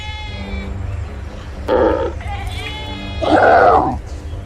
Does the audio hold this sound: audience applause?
no